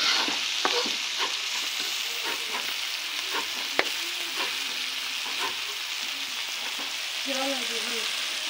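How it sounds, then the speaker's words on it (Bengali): Flat beans and potatoes fry in a pan with a dense, steady hiss of sizzling oil and occasional light scrapes and taps from stirring, close and moderately loud, with faint murmuring voices near the end. "সিম দিয়ে আলু দিয়ে ভাজি করছি"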